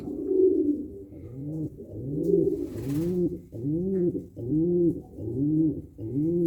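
Adana pigeons in a nesting loft, a male cooing repeatedly to call the female to the nest: steady, rhythmic rounds of low, throaty coos, close and clear, with no talking.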